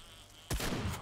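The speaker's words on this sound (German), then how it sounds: "Boah, was ein Schuss." A single loud gunshot rings out in the survival video game 7 Days to Die, cracking suddenly after a quiet stretch of low ambient game noise and leaving a short, rumbling tail.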